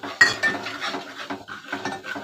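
A spoon scraping and clinking around a pan as masala and turmeric are stirred into oil for a spicy Marathi chickpea amti: irregular close metallic knocks and scrapes in short bursts, moderately loud, with no voices.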